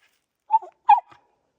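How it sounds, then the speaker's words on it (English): Two short, high-pitched whimpering cries from a dog, close by, separated by a brief pause in otherwise quiet surroundings. "Then there's our dog crying."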